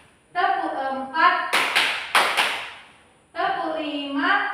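A class claps in a counting game, a few sharp, loud claps in a quick cluster between stretches of a woman's speech.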